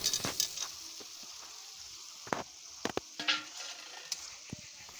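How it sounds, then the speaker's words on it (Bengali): Fried potatoes are tossed into spice masala in a pan, giving a faint, steady sizzle with sharp clinks and scrapes from the spatula against the pan. "এবার ভেজে রাখা আলুগুলো মশলার উপর দিয়ে দিলাম"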